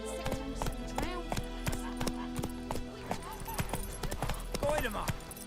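The horse in The Witcher 3: Wild Hunt gallops with rhythmic clip-clop hoofbeats and a brief whinny, close and steady under voices and background game music.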